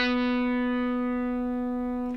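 A single sustained electric guitar note with rich, even overtones rings out steadily for about two seconds, then is cut off. It is close and clear, with no voices.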